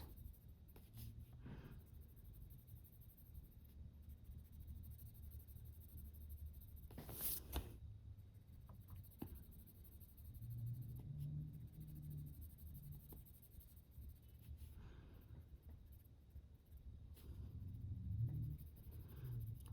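Colouring pencil on paper, a soft continuous scratchy shading sound close by, quiet and steady with brief pauses and one sharper scrape.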